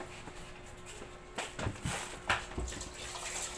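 Food being rinsed under tap water in a home kitchen while cooking binignit and puto, with broadband splashing and a few sharper clatters and bursts, moderately close, with no talk.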